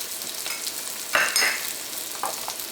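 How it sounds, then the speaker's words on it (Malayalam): Onion, crushed garlic and ginger fry in hot coconut oil with a close, bright crackling sizzle, broken by a few stirring scrapes and bursts of spatter. "ഇപ്പോൾ വെളിച്ചെണ്ണ നന്നായിട്ട് ചൂടായിട്ടുണ്ട്. ഇതിലേക്ക് നമുക്ക് സവോള ചേർക്കാം. ചതച്ചെടുത്ത വെളുത്തുള്ളി ചേർക്കാം, ഇഞ്ചി ചേർക്കാം"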